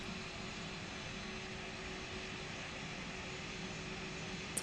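Large Airbus A320 airliner at an airport in X-Plane 11, a faint, steady broadband engine whine and hiss holding level with no talk over it.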